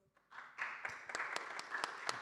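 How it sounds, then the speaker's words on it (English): Conference audience at a summit gives a warm round of applause welcoming a speaker, a modest crowd clapping that swells quickly from silence, with a few sharp individual claps standing out. "Please give a warm round of applause."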